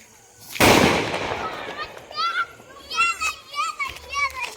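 A Diwali firecracker bursts with one loud, sharp bang, close by, and its noise trails off over about a second. Children shout and chatter excitedly around and after the blast.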